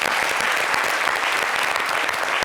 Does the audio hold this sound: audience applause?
yes